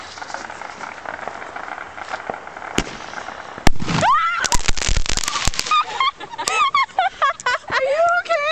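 An artillery shell firework goes off at a gingerbread house, giving a sharp loud burst followed by crackling pops, then excited shouting and screaming from people nearby.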